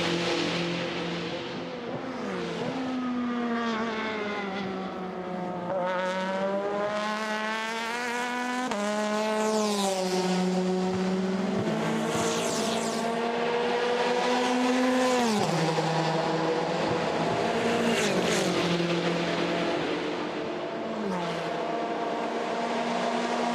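A Ferrari race car at the 24 Hours of Le Mans screams past near the Mulsanne corner, its engine note rising and falling through gear changes with sustained high revving, loud and continuous, while faint commentary sits underneath.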